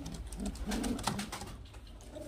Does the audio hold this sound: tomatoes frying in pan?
no